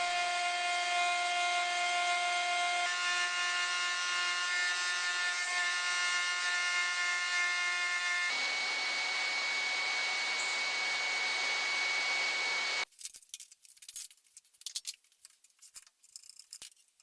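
A woodworking router milling cast iron against a spaced-out guide, a steady loud high whine with cutting noise that runs continuously, shifts tone partway through, then cuts off into scattered clatter and knocks.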